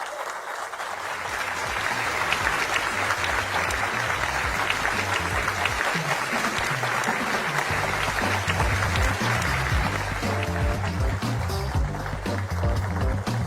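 A theatre audience applauds a minister's speech with sustained, dense clapping that builds quickly and holds steady and loud, with a few faint voices mixed in.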